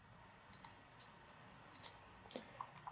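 Sharp, quiet computer mouse clicks in an embroidery design transfer program, sounding in small pairs and singles spread across a few seconds, close and dry against a faint room hush.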